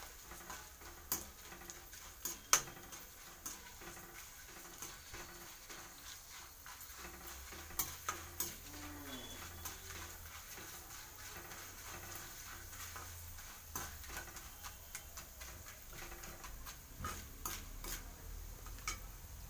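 Maize puffs stirred and fried in oil in a pan, with scattered ticks, scrapes and clinks of the utensil against the metal over a faint low background, no talk.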